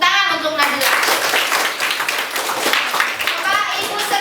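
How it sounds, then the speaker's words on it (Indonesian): A classroom of students claps for a classmate, a lively burst of many small hands mixed with children's voices and talk. "Tepuk tangan untuk Nadila."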